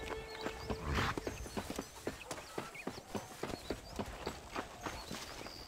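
Horse hooves clip-clopping in Red Dead Redemption, a steady run of distinct close hoof strikes at a trotting rhythm, with a brief whinny-like sound early on and no talk.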